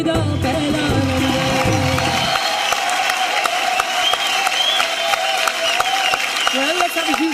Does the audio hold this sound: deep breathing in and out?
no